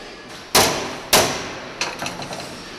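A hand hammer striking a steel personal safe during fabrication: two sharp, loud metallic blows about half a second apart, followed by several lighter taps, all close by.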